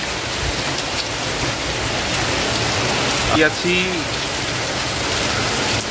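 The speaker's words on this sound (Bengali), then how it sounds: "ভালো জোরে বৃষ্টি হচ্ছে।" Heavy rain pours onto a street already pooled with water, a loud, continuous roar throughout, with a brief voice heard near the middle.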